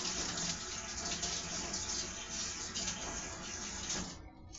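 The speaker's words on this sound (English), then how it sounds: "So I'm gonna wash my spoon off." A spoon rinsed under a running kitchen tap, a steady, soft hiss of flowing water that fades out at the end.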